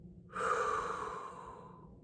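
One slow, audible exhale through the mouth, demonstrating a calming breathing technique for panic attacks; it rises abruptly, then fades gradually, close and soft, with no talking.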